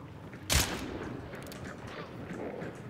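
A single sharp gunshot in the video game Hunt: Showdown rings out, followed by a low ambient rumble with faint background noise.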